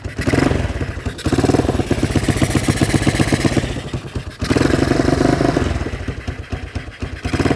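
A Honda XL185S motorcycle that had sat unused idles up close with the choke off, a steady, loud, rapid thumping chug that dips briefly midway before picking back up and settling into its lumpy idle.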